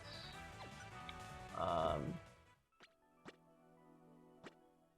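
Orcane's explosive bubbles from the fighting game Rivals of Aether: a bubbly watery burst followed by three sharp, separate popping plops over soft game music.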